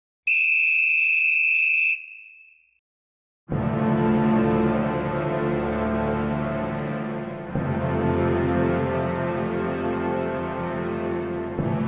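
A referee's long, steady high-pitched final whistle at a 1950 World Cup football match is followed by a brief silence, then a loud, continuous roar of crowd noise.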